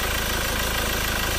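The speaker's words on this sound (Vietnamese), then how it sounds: "động cơ đang hoạt động đây, máy nổ" The diesel engine of an old Ford Ranger XLS pickup truck idles in a steady, dense, even rumble with no breaks, loud and close with the hood open.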